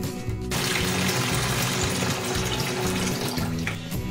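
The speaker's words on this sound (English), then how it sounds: "I'm going to finish filling up the water to 8 quarts" Tap water runs steadily into a stock pot being filled to the 8-quart mark for a batch of wassail, a continuous close rushing stream with a low hollow drumming in the pot, alone without talk.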